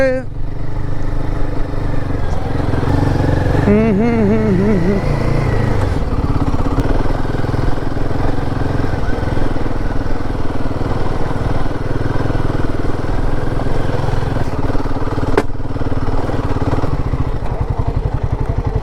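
A motorcycle rides a broken road under construction near Kalimpong, its engine droning loud and steady throughout with rattling clatter from the rough surface.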